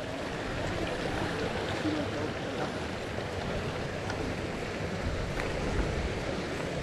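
A mountain river or stream rushes in a steady, broad, continuous wash along a trekking trail toward a waterfall in Tafí del Valle, close and even, with no clear talk over it.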